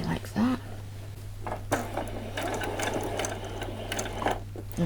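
A sewing machine stitches denim jeans for a doll, running in short bursts that start and stop with a steady mechanical whir beneath a low electrical hum, and a person speaks between the runs.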